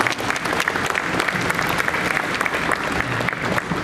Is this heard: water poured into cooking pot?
no